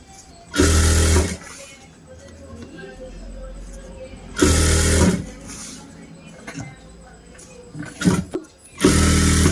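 A sewing machine stitches a plain blouse in a tailoring class, running in three short, loud whirring bursts separated by quieter gaps where a person talks.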